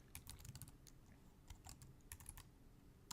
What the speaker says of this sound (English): So then I start typing in like a phrase that I might want to rank for